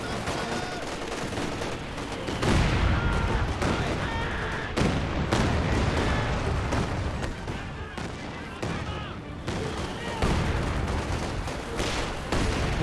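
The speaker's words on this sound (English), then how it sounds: "We're just getting bombarded by these B4s." A Company of Heroes 2 battle: a B4 howitzer bombardment with heavy booming impacts mixed with dense gunfire and machine-gun bursts, loud and continuous over several seconds.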